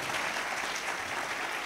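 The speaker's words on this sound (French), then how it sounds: "Si vous voulez acclamer, il faut acclamer." Church congregation applauding at an evangelical service, a steady dense wash of clapping throughout, fairly loud and continuous with no talking.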